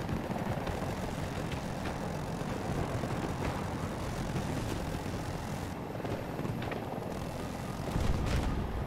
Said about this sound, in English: Now the chopper's coming in.